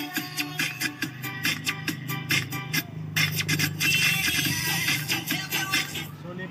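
Audio played through the right-channel tweeter of a Sakura AV-733 amplifier under repair for burnt parts, heard as busy music with steady rhythmic percussive hits, moderately loud and continuous with no talking.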